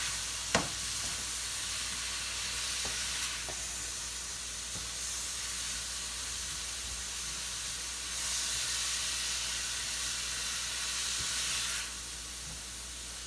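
Shrimp fry in a hot pan for a taco filling, giving a steady, soft sizzle and hiss throughout, with a few small pops and swells of steamy crackle and no voices.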